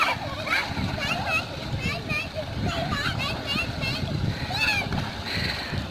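Children splash and play in water flowing from a running tubewell in a Punjab village, with repeated close splashes and sloshing under constant chatter and excited kids' voices.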